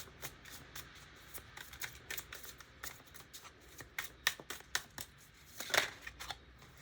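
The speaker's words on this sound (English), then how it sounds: "let's get some oracle cards." Oracle cards being shuffled by hand, a quick run of crisp riffling flicks and soft slaps, close and fairly quiet with no talking.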